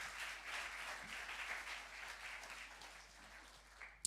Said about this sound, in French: Alors on applaudit le Seigneur.